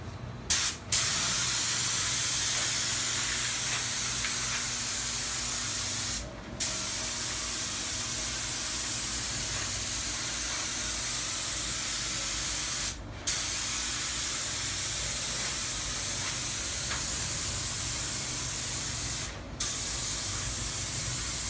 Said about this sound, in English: I'll show you a little video clip of me spraying the roof